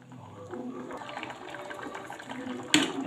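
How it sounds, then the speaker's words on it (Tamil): Brinjal and groundnut kuzhambu boils in a pot, giving a steady bubbling, hissing simmer close by for the whole stretch, with a brief louder burst near the end. "இது ஒரு ரெண்டு நிமிஷம் கொதி வரட்டும்"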